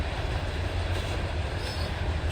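Train rolling through the small town of Belfield on a frosty winter day, heard as a continuous low rumble and hiss of rail cars from a distance, steady and without voices.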